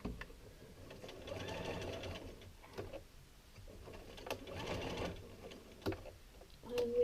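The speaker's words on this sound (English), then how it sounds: "we're sewing the binding to the plastic side of the pocket" A sewing machine stitches binding onto the plastic side of a quilted pocket in two sustained bursts of rapid whirring, separated by clicks and handling noises.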